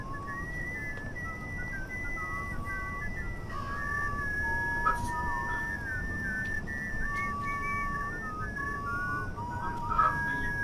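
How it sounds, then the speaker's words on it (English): Someone whistles a tune in the video game We Happy Few, a wavering melody of short and sustained notes over a muffled, murmuring background. "Is that we happy few whistling?"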